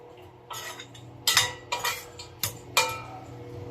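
Dried anchovies (dilis) stir-fried in a pan over low heat: a spatula scrapes and clinks against the metal in about five distinct strokes, each a short bright rattle, close and alone with no talking.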